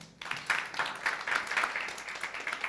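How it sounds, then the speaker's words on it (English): An audience at the Uganda Film Festival ceremony gives fairly quiet, steady applause for Gonza, with clapping from several people in the room. "Please give a round of applause to Gonza."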